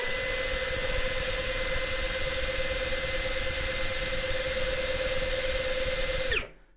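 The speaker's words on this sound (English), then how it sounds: "So we're going to test the 20 volt unit first on gear one and then gear two." An Ingco 20V cordless 60Nm drill runs unloaded in gear one at around 550 RPM, a loud, steady, close motor whine holding one pitch for several seconds before abruptly spinning down and stopping.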